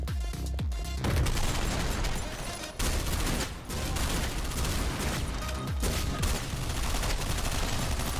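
Sniper rifle fire in the top-down roguelike shooter OTXO, dense chaotic gunfire and booms filling the scene without pause, loud and close throughout.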